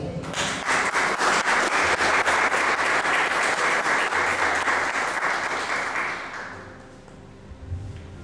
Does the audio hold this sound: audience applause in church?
yes